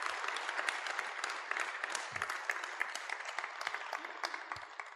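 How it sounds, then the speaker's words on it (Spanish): A church or mission gathering applauds a brother, a soft, fairly distant patter of many hands clapping steadily for several seconds at low volume. "¿Qué tal si le damos un aplauso a nuestro hermano?"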